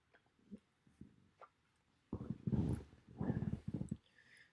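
A dog, just woken up, makes a run of loud, close vocal bursts after a couple of seconds of quieter, scattered sounds.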